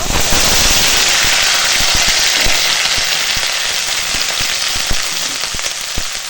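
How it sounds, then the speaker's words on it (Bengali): Dry red chillies crackling and spitting in hot oil for a tempering, a loud, close, continuous sizzle with dense sharp pops throughout and no talking. "তেল গরম হয়ে গেছে এখন দিয়ে দিলাম শুকনো লঙ্কা ফোড়ন"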